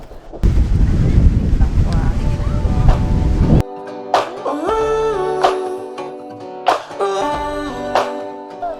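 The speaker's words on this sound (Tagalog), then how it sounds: "sobrang lakas ng hangin at di payapa ang alon" Strong wind buffets the microphone beside a rough, unsettled sea, a loud roaring rumble for a few seconds before it drops away, followed by a stretch of other louder tonal sound.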